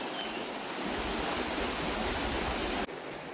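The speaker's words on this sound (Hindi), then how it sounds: "ये देखिए झरना, वाह पानी कितना है।" Heavy waterfall swollen after a season of heavy rain, a loud continuous broadband roar of rushing, crashing water that holds steady throughout with no voices over it.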